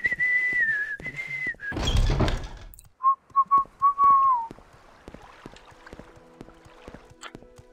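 A character in The Elder Scrolls III: Morrowind whistles a sustained two-part tune, then short clear chirps follow, loud and close, with a brief whoosh of water between and a quiet game backdrop afterward.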